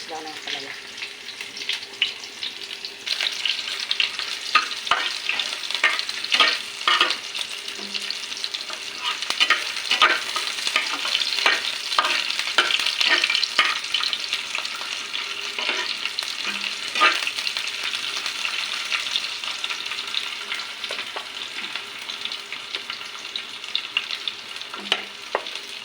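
Bitter gourd leaves frying in a pan, a continuous hiss and crackle with repeated scraping stir strokes from a utensil, steady and close with no talk.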